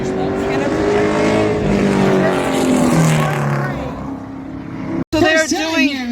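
Super late model race cars roar through the final lap at Magic Valley Speedway, a loud sustained engine drone with rising and falling pitch as cars pass, ending in a sharp cut to a brief burst of different engine whine.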